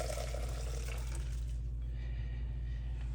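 Vegetable stock poured into a saucepan, a steady close liquid rush with splashing that softens partway through, alone with no voices.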